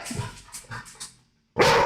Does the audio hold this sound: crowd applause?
no